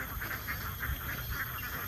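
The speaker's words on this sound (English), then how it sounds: "Some more ducks here." Several ducks quack in a steady, repeated series outdoors, fairly close, over low rumbling background noise.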